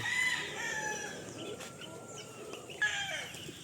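Chickens in a backyard free-range pen cluck and crow close by, with a steady outdoor murmur underneath and a brief sharper call near the end.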